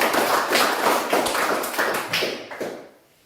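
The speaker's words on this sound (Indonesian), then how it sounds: "tepuk tangan untuk penjelasan dari kelompok 3" A classroom of students applauds a group's explanation in dense, rapid clapping that holds steady and loud, then tapers off and fades to quiet in the final second.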